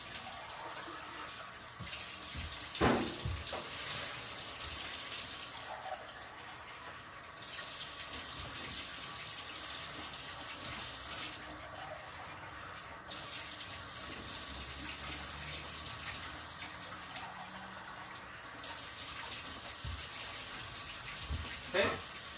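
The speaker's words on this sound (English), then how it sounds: "And I'm going to add 1 liter of water" Water runs from a tap in a home kitchen, filling a liter into a pot for lentil dhal, a steady close rushing hiss that swells and eases across the stretch with a few clanks.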